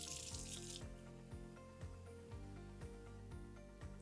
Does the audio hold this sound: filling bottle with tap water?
yes